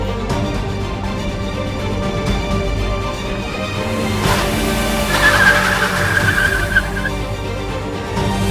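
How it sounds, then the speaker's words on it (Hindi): A speeding car skids on the road, a loud engine roar building to a sharp, screeching tire squeal near the middle that trails off, heard fairly close with no talk over it. "यार पागल इंसान इतनी तेज गाड़ी चला रहा था"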